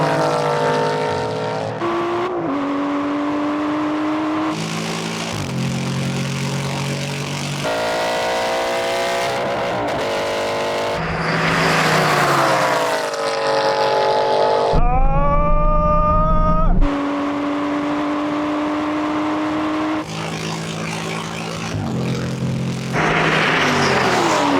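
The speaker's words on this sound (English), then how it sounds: "Can I catch up with the racing car?" Aston Martin racing car engine roaring through a drag race, loud and continuous with repeated rising revs and sharp gear changes, one howling upshift after another across the whole stretch.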